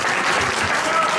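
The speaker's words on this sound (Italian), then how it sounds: "Facciamo un applauso." Steady, dense applause from a crowd, clapping continuously at even loudness throughout.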